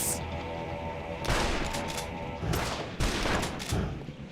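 Bursts of gunfire as Max shoots at Sam in the Sam & Max video game: three loud volleys of rapid shots separated by short pauses, with no speech.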